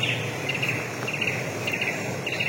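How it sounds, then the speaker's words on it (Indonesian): Birds chirp and trill in a forest near an Indonesian village, repeated short bright calls over a dense, steady bed of insect buzz, fairly close and continuous. "Suara burung."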